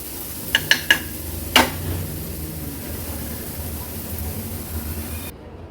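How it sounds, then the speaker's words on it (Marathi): Stuffing chutney sautéed in oil in a pan, a few sharp metallic clinks of a utensil against the pan early on, then a low, steady frying hiss that runs until it cuts off near the end. "ही चटणी अगदी दोन मिनिटांसाठी तेलावर परतून घ्यायचे"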